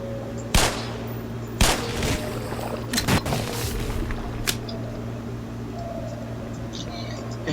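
Gunshots and explosive blasts in the video game Black Mesa ring out as sharp, scattered cracks and booms, a few single shots then a quick cluster, over a steady game hum.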